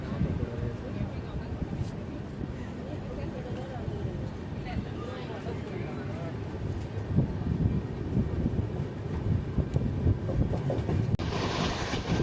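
Non-AC double decker train on the Chennai-Bangalore run: a steady low rumble of rolling wheels on rails with soft clickety-clack and wind noise, heard from inside the carriage, continuous throughout with voices mixed in.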